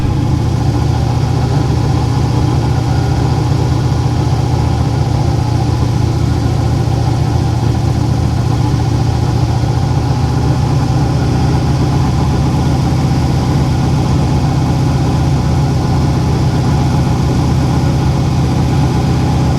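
A Chevrolet C5 Corvette with a large cam and an overheating fault runs continuously with a deep, steady engine drone, held at raised revs close by with little variation.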